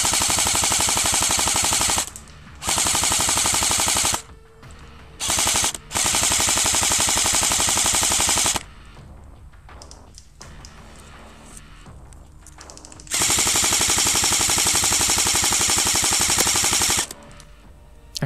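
Airsoft guns fire during a woodland game in long rapid full-auto bursts, loud and close, separated by quieter gaps of outdoor ambience.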